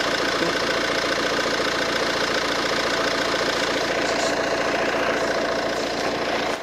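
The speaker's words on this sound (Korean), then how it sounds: "엔진 소리 조금 들려드리도록 하겠습니다." A Renault QM6 diesel engine idles steadily and loudly up close, with a constant rattling clatter throughout and no voices.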